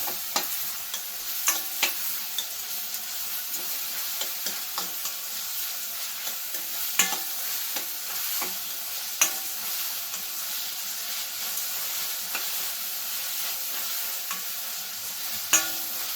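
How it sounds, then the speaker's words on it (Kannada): Vegetables frying in oil for vegetable avalakki bath, a soft continuous sizzle close by with frequent sharp clinks and scrapes of a spoon stirring against the pan. "ಹಾಗಾಗಿ ಎಣ್ಣೆಲೆ ಚೆನ್ನಾಗಿ ಫ್ರೈ ಮಾಡ್ಕೊತೀನಿ."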